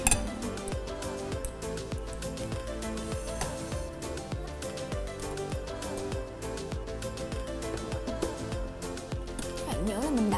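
A whole chicken skewered with bamboo toothpicks is set into an air fryer oven, with a string of close, light metallic clinks and rattles as the parts are fitted.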